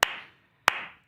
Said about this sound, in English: You can clap along.